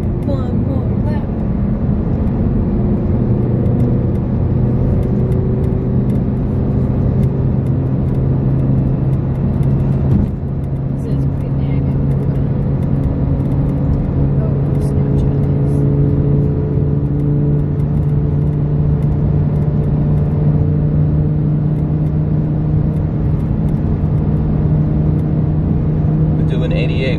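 A supercar laps Talladega Superspeedway with a steady, loud engine drone and rushing road noise from inside the cabin, holding a constant pitch for the whole stretch while people talk over it.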